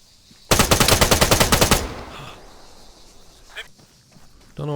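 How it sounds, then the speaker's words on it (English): Rapid automatic gunfire in the ArmA 3 combat game, a loud sustained burst of closely spaced shots lasting over a second, followed by quieter scattered battlefield sounds and a final sharp report. "Tiago, fire at the soldier, just up ahead."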